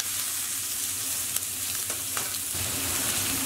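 Beef patty and bacon fry together in a pan for an Aussie burger, a close, dense, constant sizzle and crackle with small pops and a faint utensil scrape; no talking.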